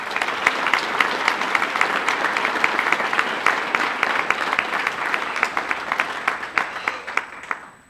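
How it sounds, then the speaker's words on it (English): An audience at a Findlay community athletics awards ceremony applauds its nominees, a steady wash of many hands clapping with sharp individual claps standing out, holding level before thinning and fading at the end. "How about a round of applause for all of our nominees?"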